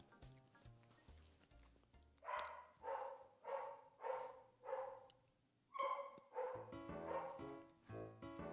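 A dog barks repeatedly over an Italian conversation, about eight rhythmic barks at moderate distance. Faint music or game sounds sit underneath.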